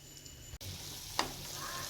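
Fish roe fritters frying in oil give a steady, soft sizzle, close and continuous, with one sharp clatter about halfway through; no voices are heard.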